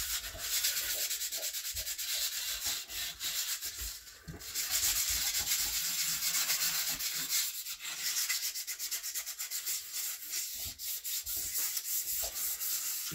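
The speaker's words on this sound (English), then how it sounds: "So we'll give that just a scuff." Hand-scuffing a part on a 1962 Chevrolet Impala during restoration, a steady close abrasive rubbing that runs continuously with a short pause midway, no talking.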